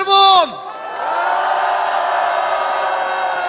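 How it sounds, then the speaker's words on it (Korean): Crowd at a political rally in Korea breaks into sustained applause and cheering after a brief shouted voice, the dense clapping holding steady and fairly loud to the end. "우리 국민들과 함께 윤석열 파면 결정을 반드시 이루겠다는 격려의 박수, 우리 스스로의 자신의 박수를 한번 보냅시다"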